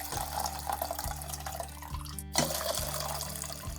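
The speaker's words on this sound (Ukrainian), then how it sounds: "можна воду зливати назад у каструлю" Water is poured from jars back into a pot, running and splashing steadily over a low background hum, with a brief break partway through before the pouring resumes.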